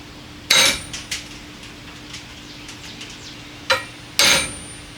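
A hammer strikes a center punch on a Mazda Miata fender, sharp metallic strikes ringing out close by: a loud tap followed by lighter taps, then two more solid hits near the end.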